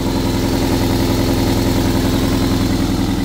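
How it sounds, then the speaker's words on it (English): A Toyota MR2 MK3 Roadster idles close by with a loud, throaty, steady rumble, its bad exhaust blow adding a continuous rhythmic puffing pulse, with no talking. "and I'll let you listen to that engine."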